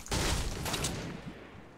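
A single loud burst of gunfire in Fortnite Battle Royale, close and booming, then trailing off into a ringing tail.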